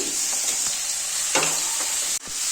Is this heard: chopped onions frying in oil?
yes